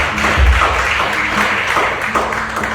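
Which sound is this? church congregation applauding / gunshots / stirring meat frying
church congregation applauding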